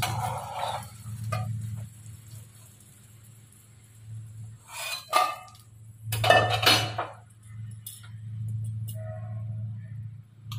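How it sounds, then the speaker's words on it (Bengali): Bottle gourd fritters are lifted out of a frying pan with a few sharp metal clinks and scrapes of the utensil, scattered irregularly over a steady low hum. "এবার ভাজা হয়ে গেছে, নামিয়ে নেব।"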